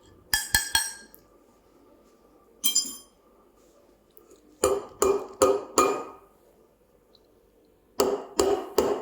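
A spoon clinks against a ceramic cup while stirring sugar into a freshly pulled espresso shot from a Breville Barista Express, in quick bursts of two to four bright taps separated by pauses, close and clear with no talk.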